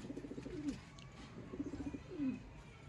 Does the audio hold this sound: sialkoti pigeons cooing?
yes